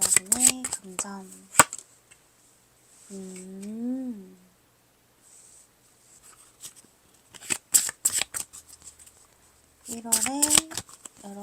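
Tarot cards being shuffled in quick riffling bursts, crisp and close, interleaved with someone talking.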